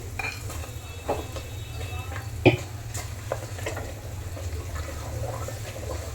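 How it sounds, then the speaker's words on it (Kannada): A spoon stirs tempering through thick puliyogare tamarind paste against a pot, with soft scraping and an occasional clink over a steady low hum. "ಈಗ ಪುಳಿಯೋಗರೆ ಗೊಜ್ಜಿಗೆ ಈ ಒಗ್ಗರಣೆ ಸೇರಿಸ್ಕೊಳ್ತಾ ಇದ್ದೀನಿ"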